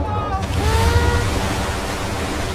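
A waterfall splashes over a water coaster ride in the theme-park video game Planet Coaster, a steady, loud broadband rush with no breaks, while a voice talks briefly over the start.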